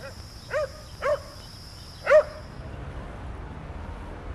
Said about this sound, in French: Un chien nommé Félix,